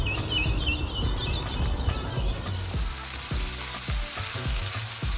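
Red amaranth greens frying in a pan give a dense, continuous sizzle, joined partway through by a run of soft rhythmic knocks from stirring, with no voices.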